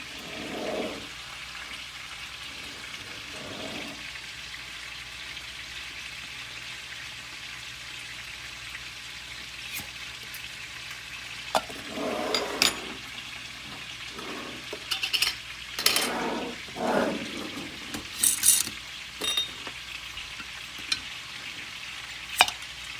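Home-canned jars sealing on a kitchen counter beside a stovetop dinner with chicken thighs cooking, a scattering of sharp lid pops and pings spread across the stretch over a low frying hiss, getting busier toward the end.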